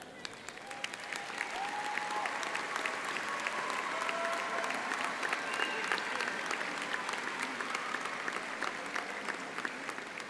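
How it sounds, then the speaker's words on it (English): A large crowd at a high school commencement ceremony gives teachers and staff a steady, sustained round of applause, thick continuous clapping that holds at an even level with faint cheers mixed in. "would you please stand and let everyone give you a round of applause?"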